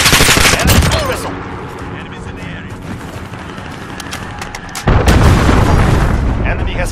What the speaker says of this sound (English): Enemy missile.